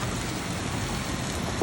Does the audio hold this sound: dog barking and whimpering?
no